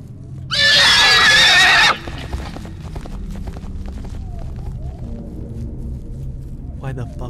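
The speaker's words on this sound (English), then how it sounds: "is there a horse?" A horse neighs loudly in the horror video game Silent Breath, a single shrill whinny lasting over a second in a forest setting, followed by a low ambient rumble and faint scattered clicks.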